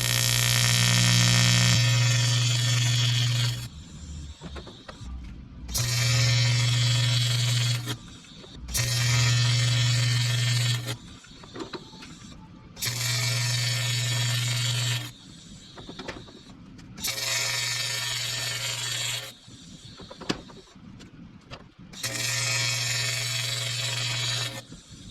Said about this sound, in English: So to weld it, I'm going to be using about 115, 20 amps